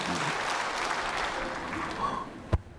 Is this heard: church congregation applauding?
yes